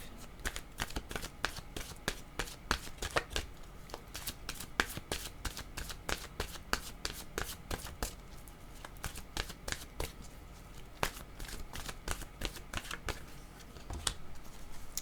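Oracle cards are shuffled by hand over about fifteen seconds, a close, crisp run of rapid riffling bursts repeating in quick succession with a quiet room behind.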